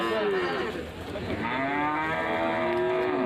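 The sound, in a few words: bull mooing at cattle market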